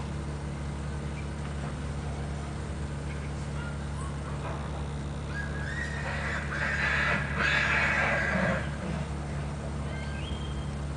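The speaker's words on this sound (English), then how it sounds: "That's one of the neighbor's horses in the background there." A horse on a neighbouring property whinnies in the background partway through, faint and distant over a steady low hum of outdoor ambience.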